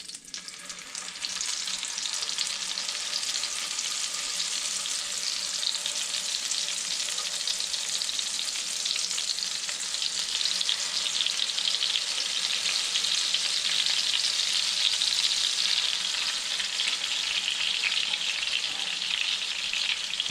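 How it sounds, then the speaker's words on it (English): Speckled trout fillets fry in melted butter and olive oil in a pan, a steady, even sizzle that holds at a constant level throughout with no voices. "Okay, once the butter's all melted down, I'm going to go ahead and put my speckled trout fillets in."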